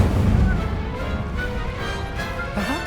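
Incendio fire spell cast during a duel in Hogwarts Legacy, a loud, dense roaring burst of game effects that stays heavy and continuous for the whole moment, with a rumbling low end.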